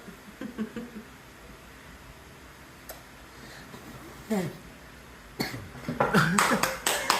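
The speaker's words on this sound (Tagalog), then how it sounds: "Sino may ubo?" A child coughs a few times amid a family birthday celebration, with the short coughs coming in bursts near the end among cheering and singing voices.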